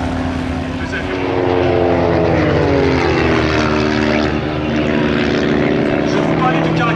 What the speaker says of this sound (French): deux avions vraiment différents, un monoplan à biplan, deux avions